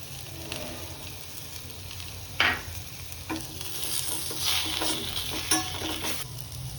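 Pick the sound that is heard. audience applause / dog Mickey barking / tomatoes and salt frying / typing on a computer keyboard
tomatoes and salt frying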